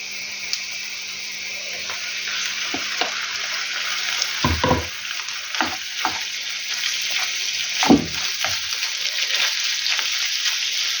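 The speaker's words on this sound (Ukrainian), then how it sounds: "Тепер сюди буду додавати фарш." Minced meat going into softened onions frying in a pan, a continuous bright sizzle with several thumps and scrapes as the meat is added and stirred, close and steady throughout.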